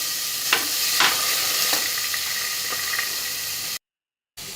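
Steady sizzling of chopped onions frying in hot oil, with a few soft stirring scrapes, then a brief cut to silence before the sizzle resumes.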